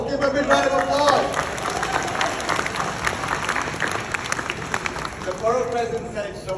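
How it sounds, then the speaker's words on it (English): Crowd applause at a Lunar New Year celebration in Queens Borough Hall, a sustained round of clapping with cheering voices, and a speaker's voice audible at the start and end. "Let's give him a big round of applause."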